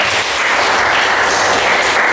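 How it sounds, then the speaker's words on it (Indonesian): A classroom of students applauds a classmate, a short, loud, continuous burst of close clapping with no speech over it. "tepuk tangan untuk Raya."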